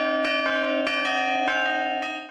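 Church bells in the Champagne region ring out loud and resonant, with several overlapping strikes sustaining a rich, humming tone with no speech.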